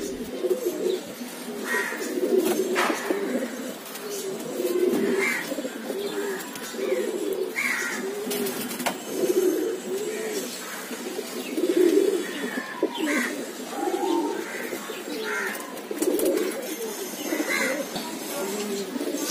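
Pigeons coo repeatedly in soft, throaty rhythmic phrases in a loft, several birds close by, with occasional chirps and rustling.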